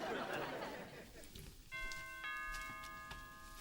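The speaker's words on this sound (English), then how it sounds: "Come on, ring the bell." A doorbell rings indoors, a clear sustained ding-dong chime entering midway after muffled background chatter and bustle, moderately faint and ringing on under the room noise.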